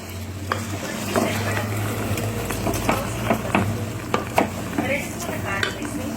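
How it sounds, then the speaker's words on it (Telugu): Rice coated in masala is stirred in a pot for mushroom biryani, with repeated scraping and clinking spoon strokes over a steady background sizzle; no one speaks. "బియ్యం వేసినాక బాగా మసాలా అంతా బియ్యం కొంచెం ఇట్లా తిప్పుకొని బియ్యం విరక్కోకుండా నైస్గా తిప్పుకోవాలి"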